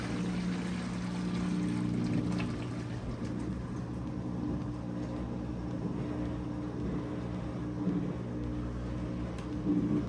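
A Maytag washer pumps water out during a diagnostic drain cycle, producing a steady low hum and rushing water that continue evenly throughout, heard up close with no talking.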